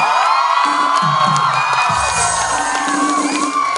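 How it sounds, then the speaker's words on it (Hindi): Audience at a school annual function greets a guest on stage with cheering, whoops and shouts, children's voices prominent, loud and continuous throughout. "जोरदार तालियां हो जाए."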